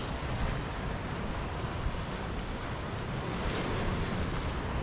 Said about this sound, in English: The Mediterranean Sea itself is very calm at the moment.